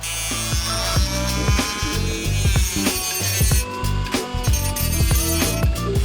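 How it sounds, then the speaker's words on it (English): A Dremel rotary tool grinds down a part from an airsoft V2 gearbox during an M4 conversion, giving a loud, steady, high-pitched motor whine that wavers in pitch as the bit bites, running throughout with no speech. "we're going to go ahead and Dremel that down"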